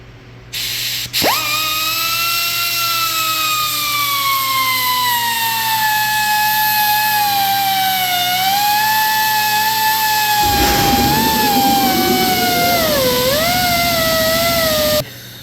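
A power cutting tool slices a slit into the wheel bearing race on a 2005 Honda Civic Coupe front hub, a loud sustained high-pitched whine that slowly sags and wavers in pitch, with gritty grinding noise joining in the final seconds.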